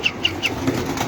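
Fighting pigeons kept for sale in Karbala beat their wings in a short run of three quick, close flaps, followed by softer rustling and a low coo.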